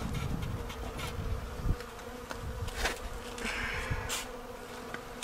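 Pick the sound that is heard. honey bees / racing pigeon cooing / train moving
honey bees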